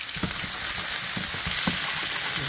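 Onions fry alongside steak in a hot pan, giving a loud, continuous close-up sizzle broken by a few soft stirring taps and scrapes, with no talking.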